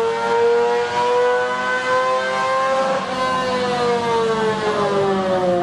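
A 1977 motorcycle bought for $500 revs loudly and steadily up close, its harmonic engine whine rising and sagging in pitch over several seconds with no talk.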